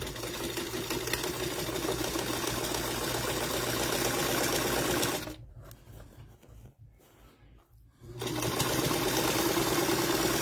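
A sewing machine stitches a quilt block in a steady close whir, stopping briefly midway with a few soft handling sounds before running again at full speed.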